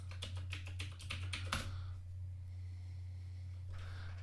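Rapid bursts of keystrokes on a computer keyboard as a password is typed into a Linux Mint terminal, a quick run of clicks ending in a firmer final press, followed by steady fan hum with a faint clatter near the end.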